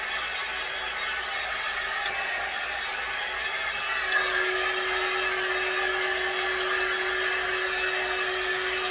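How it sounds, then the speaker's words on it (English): A blow dryer runs continuously at close range as it dries hair treated with sea salt spray, producing a steady, even whoosh with a faint high whine and no talking. "I'm going to take the blow dryer and I'm going to move it around again with that sea salt spray"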